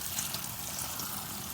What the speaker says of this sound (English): after you've got your pasta in the strainer, first thing we're gonna do is add some cold water to it.